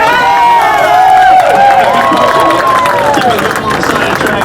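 A large crowd of ATV motocross race fans at a pro track cheers and whistles loudly beside the course, a dense continuous roar with rising whoops throughout.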